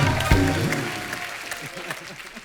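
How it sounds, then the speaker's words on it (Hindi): A studio audience claps for a guest. The applause rises after a brief spoken voice and then fades gradually into a softer patter of hands. "हमारे स्पॉट दादा, इनके लिए जोरदार ताली हो जाए"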